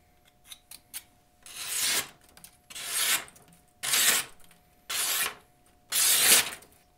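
A SOG MacV knife blade being drawn through its built-in sharpener, five loud rasping strokes at a steady pace, each about a second long, preceded by a few faint clicks, close up with no talking.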